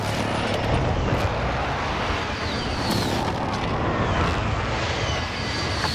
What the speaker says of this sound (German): Luftschlag im Anflug.